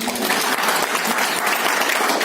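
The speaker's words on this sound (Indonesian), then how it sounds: "Kalau saya tampil tuh saya minta tepuk tangan dulu." Audience applause at an arts workshop, a dense, loud, continuous clatter of many hands that stays level to the end with no talk on top.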